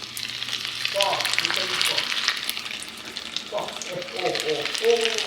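Ekadashi cutlets frying in hot ghee, a steady close sizzle running throughout with some stirring and utensil sounds mixed in, steady loudness from start to end.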